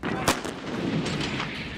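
Artillery guns fire during a Chinese military exercise in mountainous Tibet; one sharp, loud report rings out early, followed by a continuous rumbling, noisy wash that may hold further distant firing.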